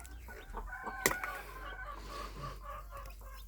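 Newly hatched chicks, with a Cochin and Australorp hatch in progress, give faint cheeping and clucking calls, with one brief sharper call standing out, quiet and close over a low steady hum.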